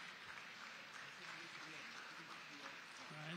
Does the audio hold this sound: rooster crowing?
no